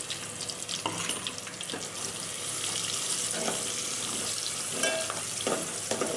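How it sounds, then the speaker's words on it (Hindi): Two medium onions fry in a pan with garlic until soft and light brown, giving a steady close sizzle with occasional stirring scrapes and bursts of crackle, no talking. "प्याज को लाइट ब्राउन, इतनी तेज़ ब्राउन नहीं करेंगे, बस हल्की सी जो वो हो जाए सॉफ्ट, इतना पकाएंगे बस प्याज को।"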